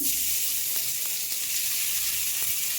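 Rice sizzling in a hot pan: a steady, bright frying hiss with a few faint ticks and pops, fairly quiet and with no talking.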